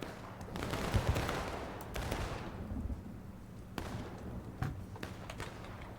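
Musket volleys crackle through a video game line battle, with repeated sharp gunfire bursts layered over a dense, continuous din of combat noise.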